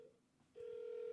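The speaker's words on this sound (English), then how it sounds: "It's ringing." A phone call placed over Skype rings on a speakerphone. One short tone is followed by a pause, then a steady, unbroken ringback tone carries on alone with no voices.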